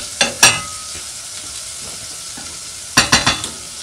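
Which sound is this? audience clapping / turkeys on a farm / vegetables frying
vegetables frying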